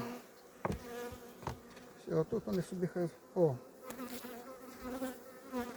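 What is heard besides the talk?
honey bees buzzing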